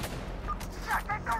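Gunfire in the tactical shooter Insurgency, a few short bursts of shots at moderate distance over steady low background rumble, with faint voices mixed in.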